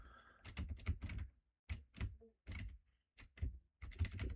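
Computer keyboard typing right beside the microphone during a game session, with loud, close bursts of rapid clicky keystrokes separated by short pauses.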